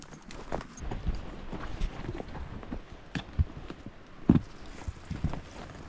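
Hooves of Gunner the horse clip-clop at a steady walking rhythm on a remote wilderness trail, close and clear, with a few louder thuds among the steps and no talking.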